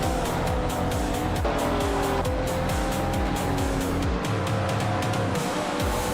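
Race cars in a video game race roaring continuously at close range, engine pitch climbing and dropping through gear changes, with several cars overlapping in a dense, loud mix.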